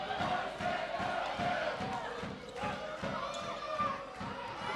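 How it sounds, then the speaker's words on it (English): Crowd at a korfball match in an indoor hall, a sustained roar of cheering and shouting with rhythmic stamping or clapping thumps, loud and continuous, with a commentator's voice faintly mixed in. "Good to see the Borgerhout crowd getting into it."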